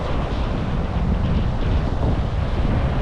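Ocean waves wash continuously onto Chilpo Beach in South Korea, a loud broad roar mixed with gusty wind buffeting the microphone.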